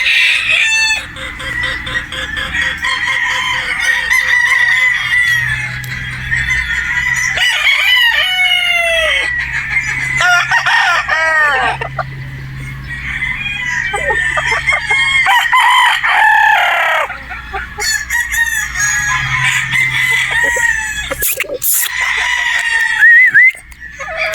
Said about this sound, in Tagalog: Yan ang mga Boston Roundhead pulit natin.